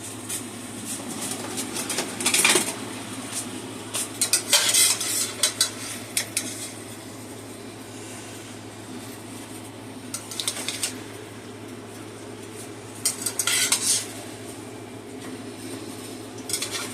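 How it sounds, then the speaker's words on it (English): Onions and green peppers stirred in a pan. A spatula scrapes and clinks against the metal in short bursts, spread out over a low steady sizzle. "Let's get it stirred in"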